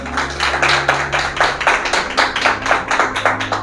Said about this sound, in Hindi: क्या प्रभु के लिए हम जोरदार तालियां बजा सकते हैं?